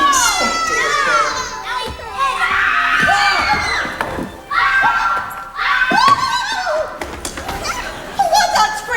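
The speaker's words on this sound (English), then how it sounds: "What's that screaming? What's happened?" Screams and shrieks from a crowd of children in a Mother Goose Land scene ring out in loud overlapping bursts of high, wavering cries, with shouts and a thump among them.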